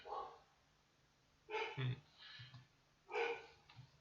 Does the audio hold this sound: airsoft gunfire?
no